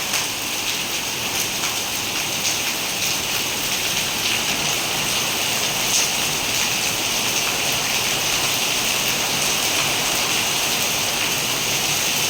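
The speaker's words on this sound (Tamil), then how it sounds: "சரி மழைடா" Heavy rain pours down in a steady, dense hiss, close and constant throughout without a break.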